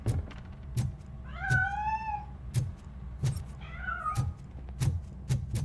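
A cat meows twice in the video game RoboCop Rogue City, two drawn-out rising-and-falling cries a few seconds apart over a low rumble and regular sharp clicking knocks.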